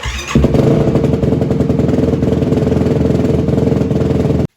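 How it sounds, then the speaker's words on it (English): A Yamaha YFZ450 quad bike engine catches after a brief crank and settles into a loud, steady, close idle with an even thumping rhythm that runs for several seconds. "start the bike, let it warm up a little bit"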